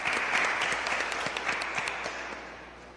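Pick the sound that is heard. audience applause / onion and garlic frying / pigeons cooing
audience applause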